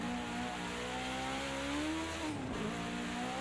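A BMW 320 Turbo Group 5 race car in the Project Cars 2 racing game at Bathurst holds a loud, steady engine drone under hard throttle, with a brief pitch dip mid-way as it shifts, then climbs again.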